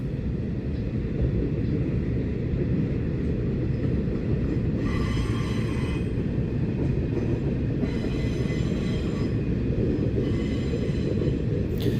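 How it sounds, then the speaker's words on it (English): A train rolls through a small Colorado town, a steady low rumble of wheels and cars echoing continuously, with brief higher squealing tones breaking through midway, no voices over it. "It's like the train noise, it echoes throughout."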